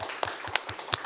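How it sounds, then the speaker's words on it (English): Small workshop audience giving a round of applause during a query-letter writing session, soft scattered hand claps at moderate distance in an irregular rhythm, fairly quiet. "Round of applause."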